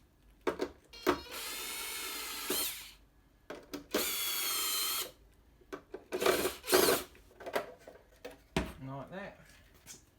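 A power screwdriver spins out screws from a roller garage door motor control unit in short whirring bursts, close by, separated by clicks and handling noises, with someone talking between.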